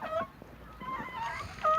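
A crossbred hen clucks in a few short, fairly close calls, with faint background noise between them.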